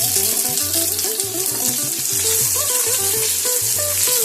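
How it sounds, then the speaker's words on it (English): Mustard seeds splutter and crackle in hot oil for a tadka, a dense, continuous sizzle with quick popping, close up and fairly loud. "Look, the mustards are spluttering."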